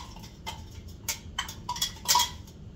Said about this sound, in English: Nice little spoon swirl.